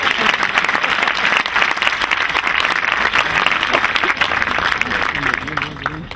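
A dense, steady wave of clapping fills a hall as the audience applauds a comedic Punjabi-Urdu poetry recital, sustained loudly throughout with faint crowd murmur beneath.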